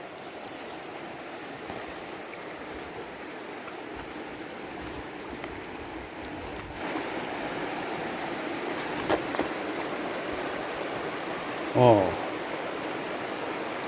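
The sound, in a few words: river water flowing during a riverside trek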